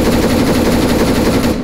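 Sustained automatic gunfire in the military shooter game Arma 3 rattles in a rapid, unbroken burst, loud and close, with no talking over it.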